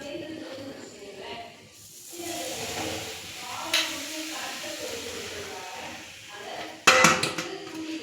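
Bread powder stirred into hot ghee in a pan for wedding-style halwa, a soft continuous scraping hiss with a couple of sharp metallic clinks of the spoon near the end, under a speaking voice.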